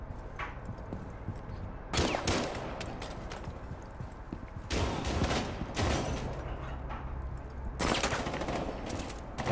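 Gunfire in the tactical shooter Rainbow Six Siege, with bursts of rapid automatic fire in three loud clusters separated by quieter stretches of scattered shots and room noise.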